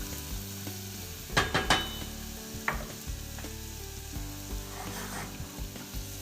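Garlic sizzles softly in a pot as it fries toward golden, with a few sharp clinks and scrapes of a spoon against the pot over the quiet, steady hiss.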